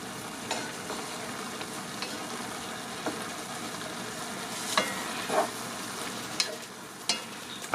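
Ground lasagna meat frying and being stirred in a pan over slightly above medium heat, a steady soft sizzle with scattered scraping clicks of the utensil, fairly quiet and close, with no talking.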